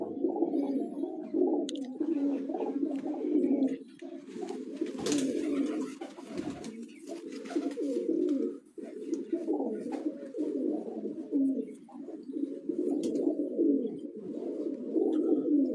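Rooftop loft pigeons, including birds kept for crossbreeding, coo in a thick unbroken chorus of low rolling calls close by, with occasional brief rustles and clatters breaking through.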